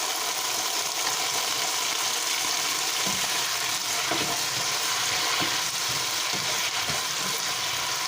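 Green beans stir-frying in a hot pan hiss and sizzle loudly and steadily as cooking wine hits them, with faint stirring clinks underneath.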